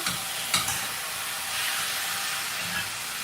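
Chicken pieces frying in a pan while being stirred, a steady close sizzle and hiss with occasional scraping knocks of the spoon against the pan bottom.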